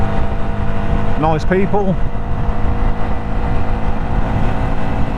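A group of motorcycles, including a Yamaha YZF R125, riding together on a road. Engines rumble steadily and loudly close by, with a brief rising whine as one passes, under wind noise and a short remark from a rider.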